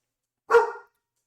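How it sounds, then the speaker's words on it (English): A single short, loud dog bark sounds close by against silence, in a quiet home setting. "That was a cameo made by my dog Cooper."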